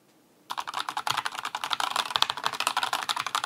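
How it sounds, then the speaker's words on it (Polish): Brown Kailh switches on a Genesis Thor 404 TKL keyboard clatter in quick, steady keystrokes, close and fairly loud, starting after a brief quiet moment and running continuously to the end. "zobaczmy, jak one są głośne, jak pracują te przełączniki"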